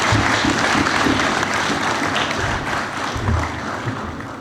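A crowd at an annual function in Faisalabad applauds loudly and continuously, a dense steady roar of clapping from many hands with occasional taps standing out.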